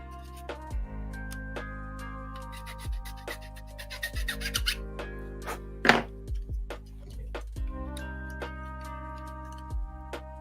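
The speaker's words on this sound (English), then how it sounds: "let's see if just a little tiny bit of filing just will make our life that much a little bit easier" A hand file rasps against metal in a quick run of short strokes, with light clicks and taps in between and one sharper scrape partway through, at close range in a workshop.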